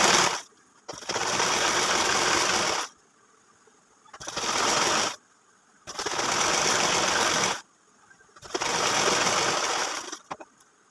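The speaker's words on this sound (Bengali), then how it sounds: "তো এই তো সোজা করে আমি সেলাই করে নিলাম।" A domestic sewing machine runs in three long bursts with short pauses between them as a salwar pant is stitched, a steady close mechanical whir starting and stopping. No one speaks.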